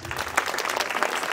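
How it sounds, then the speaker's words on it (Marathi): An audience at a magician's show at a youth camp in Usgaon bursts into brisk applause. It is lively and moderately loud, with scattered sharp claps over a continuous wash of clapping. "सगळ्यांसाठी परत जोरात टाळ्या."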